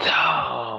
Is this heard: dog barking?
yes